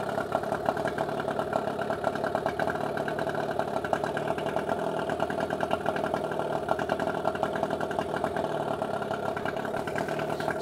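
An outboard motor with an added charging circuit runs steadily at idle, a continuous even mechanical drone with a fine rapid pulse, holding a constant level throughout without talk.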